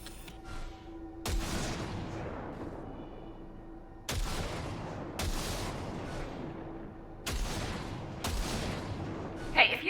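Turret fire at a target in Cyberpunk 2077: four heavy, booming shots a few seconds apart, each trailing off in a long echoing decay, with quiet ambience between them.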